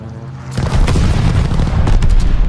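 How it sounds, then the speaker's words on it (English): A strafing run in an online shooter game roars in with loud, dense gunfire and booming explosions, a sudden heavy barrage that keeps pounding without a break. "Enemies called a strafing run."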